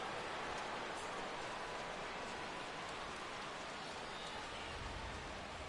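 Heavy rain pours steadily in MLB The Show 16 during an Astros at Yankees Opening Day game, a dense, even wash of noise with no breaks, heard alone at low level.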